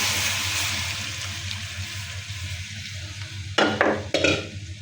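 Boiled mashed potatoes frying in hot oil in a pan for a cauliflower-potato dish, a steady broadband sizzle throughout, then a few loud close scraping stirs near the end.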